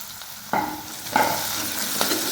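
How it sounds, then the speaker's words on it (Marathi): Chopped tomatoes fry in hot oil with browned onions for a spiced okra and yogurt curry, a close, steady sizzle broken by three scraping stirs of a spoon in the pan. "टोमॅटोला सुद्धा छान असं फ्राय करून घ्यायचं आहे तेलामध्ये"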